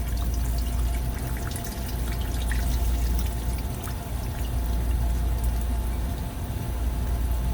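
Continuous rushing pour of water flowing and trickling into a drain, steady and fairly loud with a low rumble beneath.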